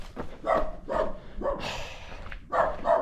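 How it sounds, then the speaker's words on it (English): Dogs bark repeatedly along a running race trail, several sharp woofs in a row heard fairly close over outdoor background noise. "The only problem is there's so many dogs."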